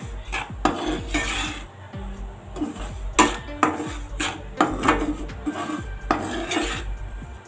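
A spoon scrapes and stirs semolina (rava) roasting in a pan on a low flame, giving repeated close rasping strokes and metallic scrapes in an uneven rhythm, with no talk.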